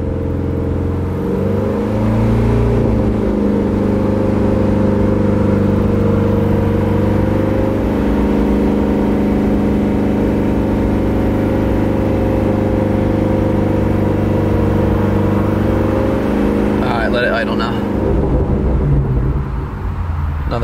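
Ford Shelby GT350 V8 held steady at about 3,000 rpm, a loud, constant, harmonic engine drone close by that barely wavers for around twenty seconds, easing slightly near the end.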